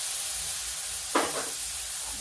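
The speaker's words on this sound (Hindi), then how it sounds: "अब बहुत थोड़ा सा ये गर्म पानी, जरा सा, तो मसाले जलने लगे।" Hot water splashed into a pan of frying spices, including turmeric, for a dry okra and radish dish, giving one sudden loud hiss that quickly fades back into a faint steady sizzle.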